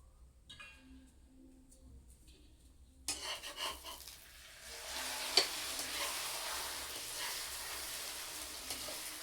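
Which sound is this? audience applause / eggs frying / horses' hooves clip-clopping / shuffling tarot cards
eggs frying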